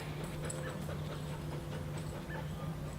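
A hunting dog panting and faintly whimpering in the field, quick soft breaths over a steady low background hum, close but quiet.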